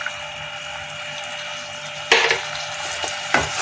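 Spice paste with sugar and yogurt being sautéed in a pan for a creamy paneer dish, a continuous soft sizzle with two sharper clattering stirs near the end.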